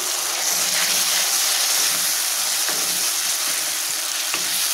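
Blended tomato purée sizzling and frying in hot oil for a chicken parotta salna, a steady close crackle with occasional stirring scrapes throughout.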